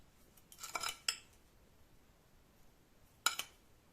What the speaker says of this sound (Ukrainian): Це все добре розмішую, щоб сіль і цукор розчинилися.